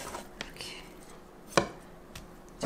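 A knife slices lengthwise through rinsed, squeezed kimchi on a cutting board, a few soft, sparse chops spaced out over quiet kitchen background.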